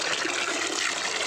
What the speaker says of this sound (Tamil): அடுத்து தண்ணியை மேலே ஊற்றுவோம்.